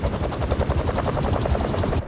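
A helicopter's blades thud in a rapid, steady low pulse in the Marvel's Spider-Man 2 video game, close and loud, cutting off abruptly at the end.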